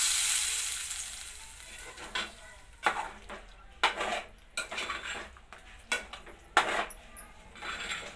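Hot oil is poured over chole and gives a brief hiss that fades within a couple of seconds, followed by quiet, scattered clinks of a spoon and dishes.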